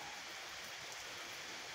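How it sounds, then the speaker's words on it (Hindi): Steady heavy rain falls outdoors, a dense, even hiss with no breaks, moderately faint and heard alone without talk. "यहाँ कितनी बारिश हो रही है, देखिए हम आपको दिखाते हैं बारिश हो रही कितना ज्यादा"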